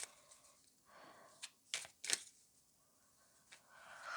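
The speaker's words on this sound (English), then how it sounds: "So I'm shuffling the cards and I'm asking" Moonology Oracle tarot cards shuffled by hand, a quiet run of soft riffling and flicking with a few sharper bursts near the middle and another near the end, with no talking.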